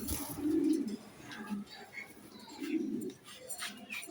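Budapest racing pigeons coo close by in low, throaty bursts, several rolling calls in a few seconds with faint chirps and background noise in between.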